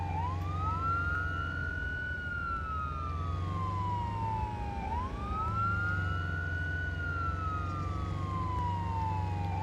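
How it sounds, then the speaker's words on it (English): Police car sirens wail in the video game Arma 3, a continuous rising-and-falling electronic siren cycling steadily and loudly over an engine hum, with no talk. "why are you using your red and blues and your sirens now?"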